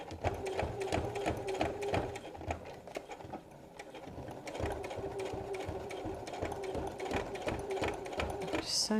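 A sewing machine stitches a BBQ utensil roll in steady rapid bursts of mechanical chatter, close and fairly loud, with brief pauses between runs.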